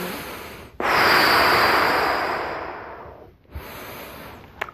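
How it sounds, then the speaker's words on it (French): A long, audible inhalation through the nose during a qi gong breathing exercise, close and alone, rising sharply, then fading over about two and a half seconds before a brief pause and a short breath sound. "Donc on inspire."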